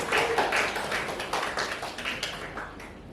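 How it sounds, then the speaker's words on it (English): Conference audience applauding at the close of a breakout session, a steady wash of many hands clapping at once, fairly loud and continuous throughout. "Round of applause, please."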